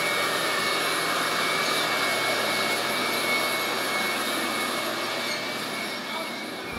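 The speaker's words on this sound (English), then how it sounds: "After the sample's dried, it comes through this grinding process, and each one of the samples gets ground into almost a fine powder." A laboratory grinder milling a dried silage sample into fine powder, giving a steady, loud, high-pitched whirring roar that holds evenly throughout and cuts off abruptly at the end.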